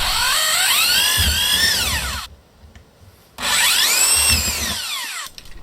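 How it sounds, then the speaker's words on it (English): Power drill with a large wood bit boring holes into a plastic panel door, two loud bursts of whining, rising and falling drilling separated by a short quiet pause. "it's time to get your drilling machine. In this case we have a plastic panel door, so I take a wood drill"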